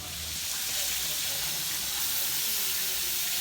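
Pork sautéing in a pan gives a steady, broad sizzling hiss that stays close and even throughout, with faint voices in the background.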